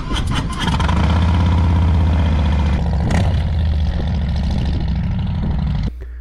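Motorcycle engines on a New Mexico trip fire up loudly close by and settle into a steady, throbbing idle, with a few sharp bursts near the start and a drop in level just before the end.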